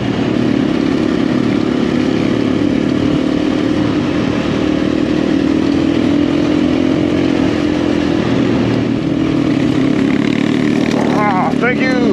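A motorcycle ridden in an amateur rally in Portugal, its engine droning loud and steady throughout with constant wind rush, and a short burst of higher whine near the end.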